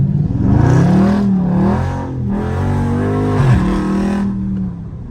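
A loud Dodge Scat Pack engine revs and roars up close, surging and easing over several seconds with a steady, throaty growl and no talking.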